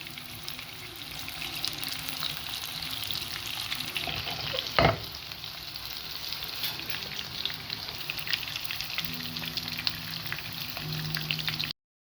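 Chicken gola kebabs fry in a pan over a low flame, giving a steady, soft sizzle and crackle throughout with one brief clatter partway through; no one speaks.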